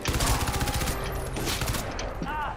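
Crysis 2 combat with rapid machine-gun fire rattling loudly in quick succession, then easing into scattered shots and game effects, with a voice briefly talking underneath.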